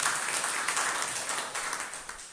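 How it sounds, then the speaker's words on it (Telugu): A church congregation bursts into loud applause during a Bible sermon, a dense wash of many hands clapping together that stays strong and gradually tapers over a couple of seconds. "గట్టిగా చప్పట్లు."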